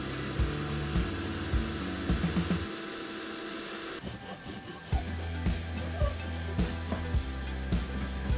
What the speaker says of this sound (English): Now to complete the holes for the dowel.